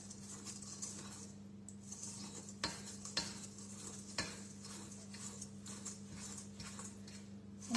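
Flour being mixed into batter for a pear and chocolate yule log, a steady soft stirring with occasional utensil taps against the bowl under a low hum, fairly quiet with no talking.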